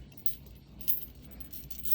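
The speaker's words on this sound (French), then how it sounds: "on va aller lancer les dés." Dice rattle and clatter in a rolling tumble, a brief bright knock standing out at a moderate distance, with no talking.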